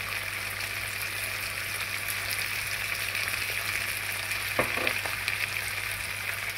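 Pork trotters sizzle in a frying pan, giving a steady, dense crackle and hiss throughout, with a brief clatter of stirring or utensil contact midway.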